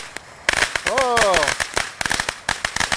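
New Year's Eve fireworks and firecrackers go off in rapid, loud sharp bangs and crackles, densely packed at close range, with people talking and exclaiming over the blasts.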